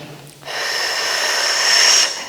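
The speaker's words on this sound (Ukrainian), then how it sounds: "Рівно тримаємося, зробили вдих. І на видих." A person takes a single long, breathy exhale during a morning full-body exercise session, close and fairly loud, starting after a brief pause and lasting about a second and a half.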